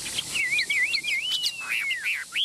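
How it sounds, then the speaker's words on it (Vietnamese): A caged songbird sings close by in quick warbling, rising and falling trills with a few sharp chirps, loud and lively throughout, with no voices. "miệng mỏ nhanh nhảu hót hay, đấu tốt."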